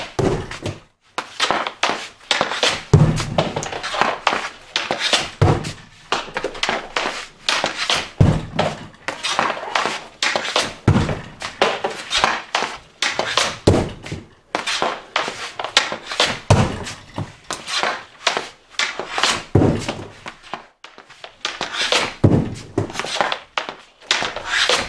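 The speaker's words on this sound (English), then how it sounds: "here we got the wrist shot" Repeated hockey wrist shots with black pucks, each a sharp crack of stick and puck followed by a thud, coming in a steady irregular series of loud, close impacts.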